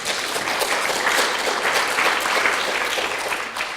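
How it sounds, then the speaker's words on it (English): Audience applause fills a hall at the opening of an MND conference, a dense, even wash of clapping that holds steady throughout and then thins slightly at the end, with no talk. "So thank you for the applause"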